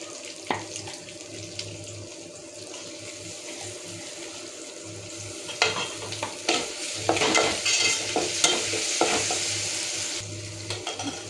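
Onions being stirred and fried in a pan for Pallipalayam chicken, sizzling steadily with scraping spoon strokes that grow busier and louder toward the end, no talking.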